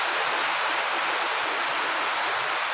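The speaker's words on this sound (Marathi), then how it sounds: "सगळं पावसाचं पाणी ना घरात शिरायला लागले. खाटाखाली सगळं पाणीच पाणी." Heavy rainwater rushing into a house during a downpour, a steady dense hiss of flowing water filling the space without pause, close and loud throughout.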